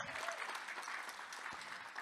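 Audience applause greets a panelist at a student experience panel discussion, a steady dense patter of many hands filling a short burst with no break.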